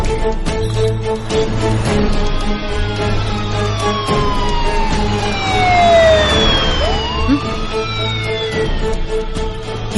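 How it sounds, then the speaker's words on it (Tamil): An ambulance siren wails loudly and sweeps past with a clear pitch drop as it goes by, layered over a steady low hum and a busy street backdrop. "அந்த ஆம்புலன்ஸ் ஜார்ஜ் சார் கிராஸ் பண்ணும்போது டபுள் சவுண்ட் கேட்டுச்சு"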